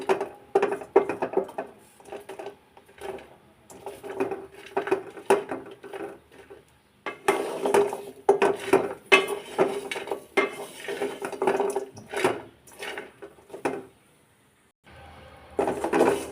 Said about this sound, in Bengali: এভাবে নাড়াচাড়া করে নেবেন আর বাদামটা যেন পুড়ে না যায় সেদিকে লক্ষ্য রেখে নাড়াচাড়া করে নিতে হবে